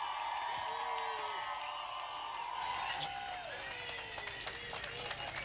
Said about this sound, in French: Un tonnerre d'applaudissements, s'il vous plaît, pour Paul et Lamia.